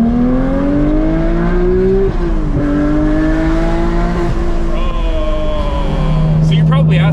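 A GT3 sports car engine drones steadily at close range, its pitch climbing and dipping with gear changes and throttle, a higher tone joining near the end, with talk running over it throughout.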